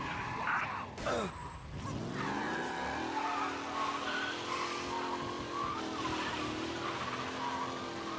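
Car tires squeal in a long skid in Mafia Definitive Edition, a harsh screech sweeping down after a sharp impact, followed by a steady engine drone carrying on at moderate volume.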